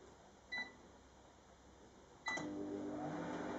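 Microwave oven heating, a low steady hum with two short beeps, the second followed by the louder drone of the running oven, with no speech.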